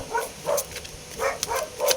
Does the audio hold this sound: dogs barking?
yes